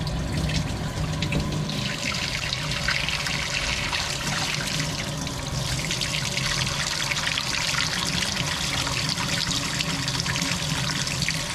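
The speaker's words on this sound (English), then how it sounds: "We have the kitchen sink running, the hot water" Hot water runs steadily from a kitchen sink tap, a continuous broadband rushing trickle that stays loud and even throughout, with a low hum of a home water pressure pump underneath and no talking.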